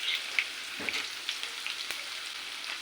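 Onions and green chilies sizzle steadily in a hot pan of oil with cumin and mustard seeds, a close, soft crackle with a few brief pops and stirring scrapes, no voices.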